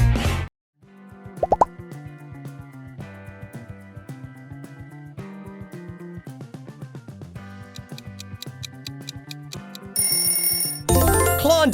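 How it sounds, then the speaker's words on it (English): Klondike ice cream bar audio logo: a short, bright musical jingle of plucky, bell-like tones with a quick pop near the start, building to a louder, fuller burst of sound at the end. "What would you do for a Klondike bar?"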